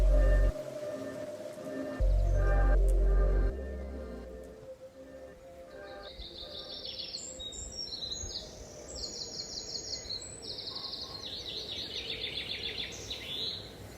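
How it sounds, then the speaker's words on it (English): Birds chirp and sing outdoors, high trills coming and going, after a few loud low thumps and rumbles at the start. "Listening to all the birds singing and watching the swallows all returning"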